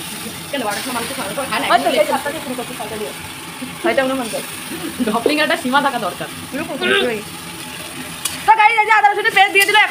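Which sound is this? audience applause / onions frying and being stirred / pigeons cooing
onions frying and being stirred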